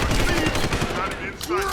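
Rapid suppressive gunfire in Deus Ex: Human Revolution, a dense burst of automatic shots mixed with game effects and voices shouting, continuous and loud for nearly two seconds.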